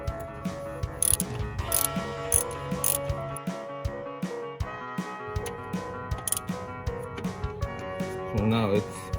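Someone works a ratchet wrench on a fixing bolt of a 1993 Jeep Cherokee water pump, with repeated clicking ratchet strokes and metallic clanks in irregular bursts, close and fairly quiet.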